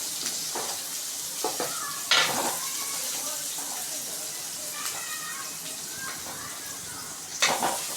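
Thirteen peeled garlic cloves sauté in a pan for a pidikarunai kara kuzhambu, giving a steady close sizzle with a few sharper scraping stirs and louder bursts near the start and end.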